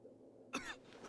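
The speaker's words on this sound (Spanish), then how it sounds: "Hace que los afectados no puedan hacer otra cosa más que toser durante un corto periodo de tiempo." A single short cough from a character affected by tear gas in the SWAT 4 video game, heard once at moderate distance against a quiet background.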